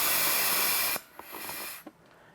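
A small portable helium tank hisses loudly and steadily as a balloon is filled, then the flow cuts off, leaving a few faint clicks and a softer lingering hiss.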